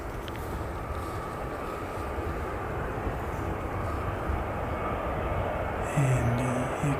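Broad, steady roar of an airliner arriving on the Cairns flight, a continuous wash of engine noise that holds level throughout, with a brief brighter whine near the end.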